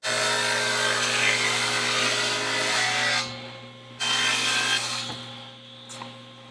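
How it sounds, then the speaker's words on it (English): A table-saw blade cuts a wooden router plane handle piece, with a bolt set between fence and blade: a loud, steady whirring rasp runs for about three seconds, drops off, then returns briefly before fading, with no talk. "I'm just going to take my bolt, put it between the fence and the blade, and I'm going to overcut it just a little bit"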